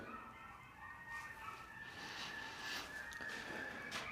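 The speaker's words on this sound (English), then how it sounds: "That's all I hear, birds outside." Birds call outdoors in an area full of seabirds, their calls repeating at a distance over a steady background hiss, with no voices.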